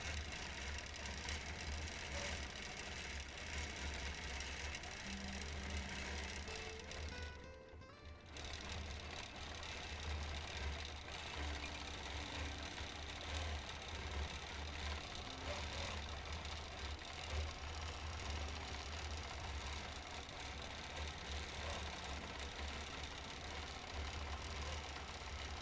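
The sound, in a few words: sewing machine free motion quilting stitches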